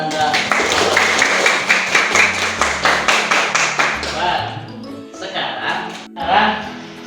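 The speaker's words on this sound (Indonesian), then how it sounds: "Tepuk tangan buat Ananda." Classroom group clapping in a rhythmic patterned beat, evenly spaced claps for about four seconds, then trailing off into scattered claps and voices.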